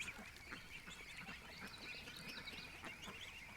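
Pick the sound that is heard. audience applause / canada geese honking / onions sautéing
canada geese honking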